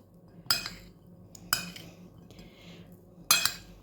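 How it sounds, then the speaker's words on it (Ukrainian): A spoon stirring apricot, prune and nut pie filling in a bowl gives three sharp clinks against the dish at uneven intervals, with soft scraping between them, close and alone. "тепер все це я перемішую ось в цій миски"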